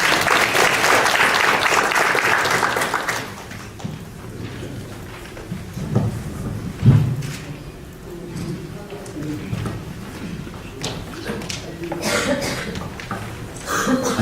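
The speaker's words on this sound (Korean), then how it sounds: "여러분 박수로 맞이해주시기 바랍니다" Audience applause at a corporate strategy presentation in Busan, a dense roar of clapping for about three seconds that quickly fades into murmuring, coughs and rustling room noise.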